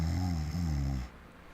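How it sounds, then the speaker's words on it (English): A single drawn-out, rumbling snore, moderately loud and close, holding steady for about a second before cutting off abruptly into quiet room tone. "you do hear snoring. Just not super loud"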